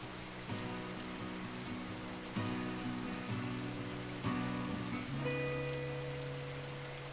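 Steady rain falls with an even hiss throughout, mostly covered by sustained music with a few brighter accents, and no one speaks.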